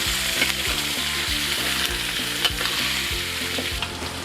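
Onion, lemongrass and galangal stir-frying in a pan, a loud continuous sizzle broken by rhythmic scraping stir strokes, close and without speech.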